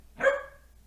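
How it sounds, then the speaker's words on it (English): A dog gives one sharp bark, close and fairly loud, standing alone against a quiet background. "Don't bark, bro."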